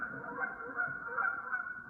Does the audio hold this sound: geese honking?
yes